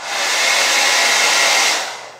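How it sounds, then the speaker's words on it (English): An electric blow dryer runs loud and close with a steady, airy whir that holds even throughout and tapers off at the very end, with no voices over it. "This here is a blow dryer."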